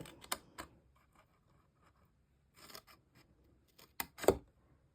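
Scissors snip notches into a cardboard hand sanitizer box, a few short crisp cuts in small clusters separated by quiet pauses, close and fairly faint.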